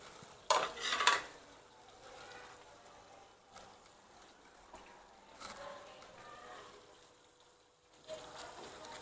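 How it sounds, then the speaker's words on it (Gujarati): Whole onions being stirred into thick gravy in a pan for a Kathiyawadi-style dhaba curry, giving a loud burst of scraping and sizzling early on, then quieter intermittent stirring and soft clatter. "ધીમે ધીમે આને આપણે હલાવી લઈશું"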